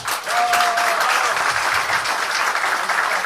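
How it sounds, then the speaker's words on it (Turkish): An audience claps steadily at a school gastronomy festival and cooking contest in Bolu, a dense, even wash of hands that holds at a constant loud level throughout, with a brief tonal whistle-like note near the start. "gidermek için sanırım alkışa ihtiyaçları var"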